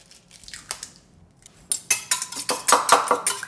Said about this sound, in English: I'm going to add 1 egg.